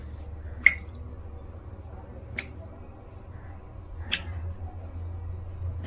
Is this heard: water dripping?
yes